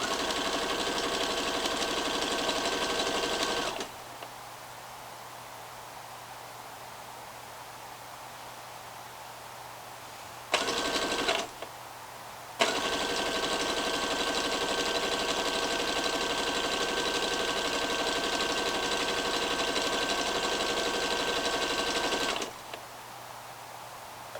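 A domestic sewing machine stitches a leggings seam with a brief reverse stitch at the start, running in long steady bursts with short pauses between, close and alone with no talk.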